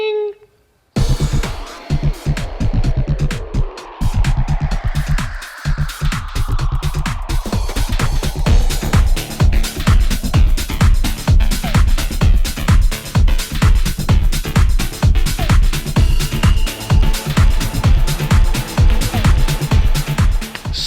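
A 2020 KTM Superduke R motorcycle being ridden, its engine loud and close, revving in rapid pulsing bursts with rising and falling pitch as it accelerates through gears, continuous for the whole stretch with no talk.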